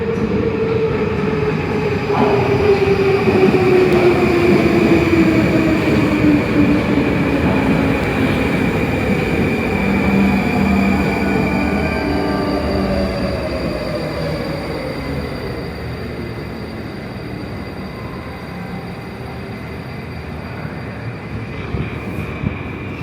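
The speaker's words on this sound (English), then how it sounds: "we got one more train approaching" A Moscow metro train approaches the station with a loud, sustained rumble and falling whine of brakes and wheels, fading slightly as it slows, with no voices.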